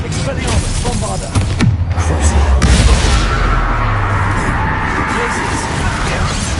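Bombarda blasting-spell explosion in Hogwarts Legacy, a heavy boom with a crash that rises out of dense game noise about a third of the way through and is followed by a long rumbling tail, with voices speaking throughout.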